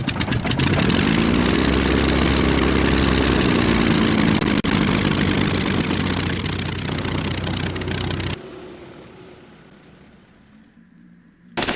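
Steady drone of a 1930s-era propeller aircraft engine in the Arma 3 Flying Legends mod, loud and continuous for about eight seconds before dropping away abruptly to a faint, thinner hum; no voices.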